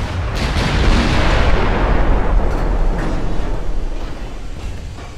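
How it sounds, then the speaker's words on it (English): Heavy 15-inch naval guns fire in a dreadnought battle game, throwing out a loud, deep boom that swells and then slowly rolls away into a fading rumble, with no voices. "Got three guns facing her at 1 kilometer. Come on, guns. Come on, 15 inchers."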